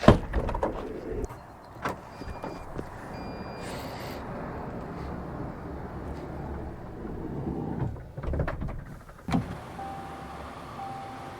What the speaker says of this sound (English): this here is a powered window that you operate from either over there at the driver's side or right here as well